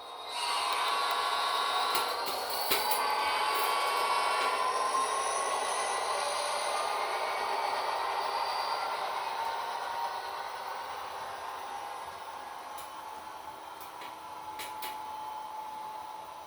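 An Athearn HO scale GP40-2 model diesel locomotive fitted with a Tsunami2 sound decoder runs at higher speed, its steady engine drone and whine sustained loud then easing slightly, with no talk.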